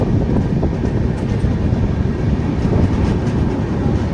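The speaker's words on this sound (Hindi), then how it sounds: "तो जी पहुंच गई अपनी ट्रेन जंघई जंक्शन और यहाँ पे भी कुछ पैसेंजर बोर्ड करने वाले हैं अपनी इस बनारस सोखा एक्सप्रेस में" The Banaras Okha Express pulling into Janghai Junction, heard as a loud, continuous rumble and rattle of rolling stock from on board, with no voices.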